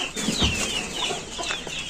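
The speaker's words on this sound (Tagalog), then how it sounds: "Nandun tayo yung mga manok." Chickens cluck softly in a backyard at feeding time, steady low murmuring calls over a faint ambient background.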